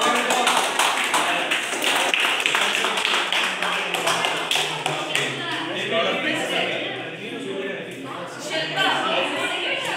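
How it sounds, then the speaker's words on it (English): A group at a Muay Thai self-defence class claps steadily for several seconds, the clapping fading a little toward the end while voices mingle underneath. "give a big applause."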